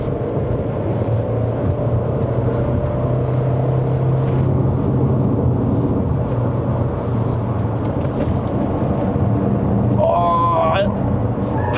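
A Chery Tiggo Cross 1.5 turbo climbs the Genting road in Malaysia, its engine and exhaust a steady, low droning hum heard from inside the cabin under continuous talk.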